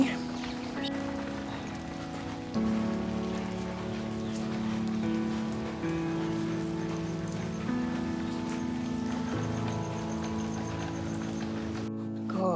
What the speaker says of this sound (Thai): ก็ฝนตกนะฮะ